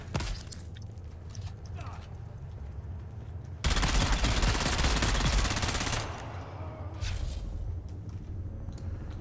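A gun in the video game Dune Awakening fires a sustained, loud automatic burst lasting a couple of seconds, with quieter surrounding game sounds and a voice talking before and after.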